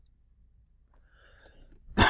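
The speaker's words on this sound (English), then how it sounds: "I don't know where this cough came from" A single sharp cough bursts out at the very end, close and loud after near silence, from a person playing the game Shores of Hazeron.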